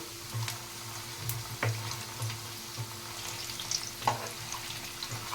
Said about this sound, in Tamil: மீடியமான ஃப்ளேமில் வச்சுட்டு நம்ம எல்லா பக்கமும் நல்லா ஆயிலில் ஃப்ரை பண்ணி எடுத்துடலாம்